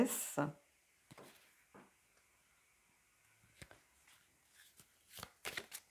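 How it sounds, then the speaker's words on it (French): A card drawn from the gothic Victoria Frances tarot deck, heard as a few short papery shuffles and slides, close and fairly soft, scattered among pauses of near silence. "Allez, on va prendre une carte du Victoria Frances"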